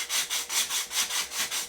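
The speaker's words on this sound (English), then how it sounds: "I'm going to have to take my sanding block and go around my edges a little bit" A sanding block rubs back and forth over the wooden edges of a Top Flite P51 ARF model airplane, about eight even, rhythmic scratchy strokes, close and clear.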